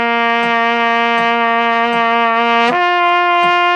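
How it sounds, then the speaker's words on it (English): Trumpet lip slurs starting on low C: a loud, sustained brassy tone with steady pulses, sliding smoothly to a neighboring note partway through, played close with no talking. "lip slurs should sound like this"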